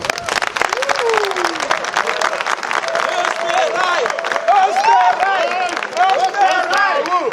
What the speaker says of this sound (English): I want us to give an applause to the Austrian police.